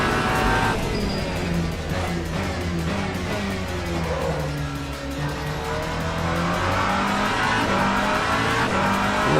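A car engine in a racing video game held at full throttle in third gear, a loud steady roar with rising and falling tonal pitch sweeps as revs climb, alone without talk.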